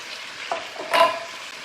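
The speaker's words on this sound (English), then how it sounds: "I'm going to add my carrots. And the rest of my carrots." Carrots dropped into a hot frying pan for chicken cacciatore, a constant soft sizzle with a couple of brief rattling bursts as pieces land and get stirred, close by and without voices.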